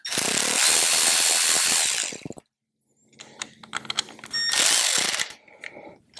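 Bolts tightened with a ratchet while a radio is installed on a Harley-Davidson Electra Glide, rapid close clicking bursts split by a short pause and some handling noise.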